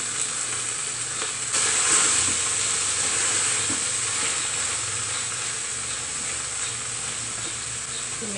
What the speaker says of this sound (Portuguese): dar uma mexidinha só, pra pegar o gostinho assim